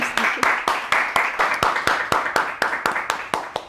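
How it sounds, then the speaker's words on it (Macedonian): A group in a workshop session gets a round of applause: crisp, closely spaced claps in a fairly even rhythm, loud and near, continuing without pause. "Да им дајме аплауз."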